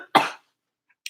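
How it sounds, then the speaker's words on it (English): A single sharp, loud cough bursts out close by, followed a moment later by a fainter second cough, in an otherwise quiet indoor space. "I'm having a coughing attack."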